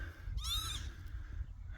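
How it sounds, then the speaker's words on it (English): Outdoor bird calls, a single harsh honking cry with layered harmonics lasting under half a second, over steady low wind or rumble; no talking. "These weird birds flying around,"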